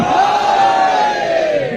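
A large crowd at a religious celebration gathering roars back a loud, sustained collective shout in answer to a Naara-e-Haidari slogan call, one long swelling cry of many voices.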